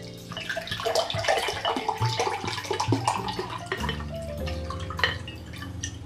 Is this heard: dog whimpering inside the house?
no